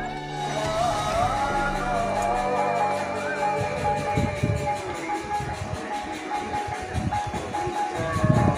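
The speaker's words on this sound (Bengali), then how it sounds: "মালগাড়ি যাচ্ছে" Goods train rolling past a railway station platform on a hot day, a broad steady rumble and rattle of wagons with rhythmic clanking, close and continuous throughout.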